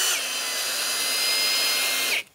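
A power drill with a regular drill bit bores into wood while building a tree fort on a dead tree stump. The high, steady whine runs loud and close for about two seconds, then cuts off abruptly.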